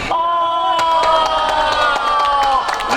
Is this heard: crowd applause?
yes